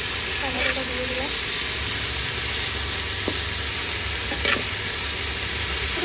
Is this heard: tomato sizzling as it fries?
yes